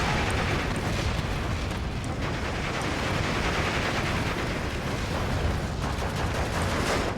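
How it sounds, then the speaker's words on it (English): Dense, continuous roar of bomb explosions and battlefield gunfire in the WWII strategy game Steel Division II, set around Tiraspol, heavy and unbroken throughout without any speech. "Those bombs are making it like hell on earth, like literally impossible to Erwarte advance through there."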